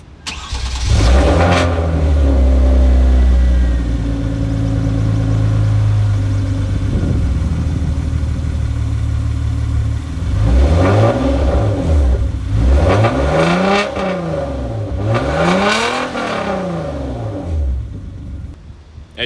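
A Hyundai Genesis Coupe 3.8 V6 with stock exhaust and test pipes cranks and catches on a cold start, idling with a raspy exhaust, then revs up several times in short rising bursts.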